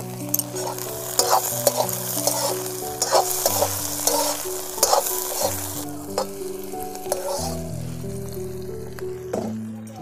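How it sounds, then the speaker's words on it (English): Semi-dry pork and sliced onions sizzle loudly in a hot pan, while a utensil stirs and scrapes through them in frequent close strokes. "The onions have turned translucent. I'll add in the semi-dry pork."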